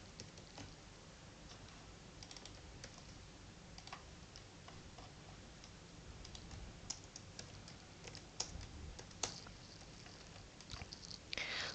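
Typing on a computer keyboard while writing code for a button-click function that adds table rows, a steady run of light, close key clicks with a few louder taps near the end.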